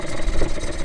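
A dinghy's outboard engine idles smoothly at low revs, giving a close, steady, even hum for a brief moment.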